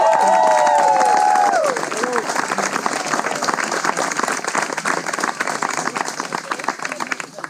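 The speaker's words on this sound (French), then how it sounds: "On peut les applaudir à nouveau" Wedding guests applaud the newlyweds at the close of a ceremony, dense clapping with some cheering, while a few high whistle-like tones sound briefly at the start before the applause thins and grows more scattered.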